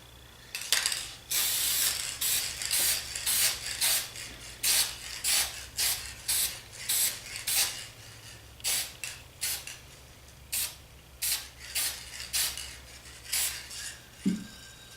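Repeated short bursts of spray paint from an aerosol can, hissing in quick irregular pulses with brief pauses between, close by and fairly quiet.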